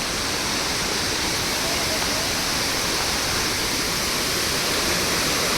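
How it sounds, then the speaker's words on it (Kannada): A waterfall at Sringeri rushes with force, a loud, dense, unbroken roar of falling water heard up close throughout. "ನೋಡಿ ಏನು ಫೋರ್ಸಾಗಿ ಬರ್ತಿದೆ ನೀರು"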